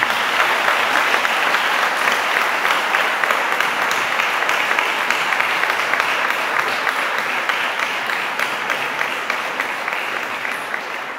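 During the mayor's speech at the 2023 Gayant festival in Douai, a large outdoor crowd applauds the police. The clapping is dense and steady for the whole stretch, fading slightly toward the end, with no talk over it.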